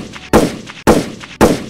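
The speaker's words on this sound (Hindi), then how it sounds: "अनुष्का मनीषा के महल के बाहर अंधाधुंध गोलियां चलाती रही।" Three sharp, loud gunshots ring out in even succession outside a palace in a Hindi drama, each one a sudden blast with a short decay and no voices in between.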